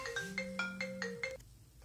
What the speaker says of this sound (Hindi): सॉरी दोस्तों फोन आ गया था।